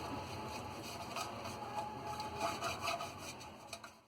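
A cake tin is greased for eggless banana bread, giving a steady close rubbing and scraping that swells briefly near the end.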